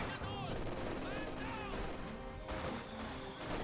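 A Maxim machine gun fires in the Company of Heroes 2 video game, rapid rattling bursts blended with other battlefield gunfire and explosions, dense and continuous over a few seconds.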